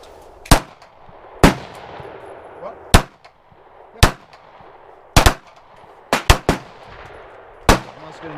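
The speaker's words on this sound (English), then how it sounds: "The first gun you're going to see me firing is a Ruger Nighthawk 1911" A Ruger Nighthawk 1911 pistol in .45 caliber fired at an outdoor range: eight or nine sharp, loud reports spaced irregularly, a few in quick pairs, each with a short ringing tail.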